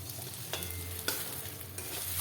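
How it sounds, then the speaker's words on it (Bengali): An egg frying in oil in a wok while being stirred, a steady close sizzle with a few sharp spatula scrapes spread through the short stretch, no voices. "আমি ডিমটা ভালো করে নেড়ে নেড়ে একটু ভেজে নিচ্ছি।"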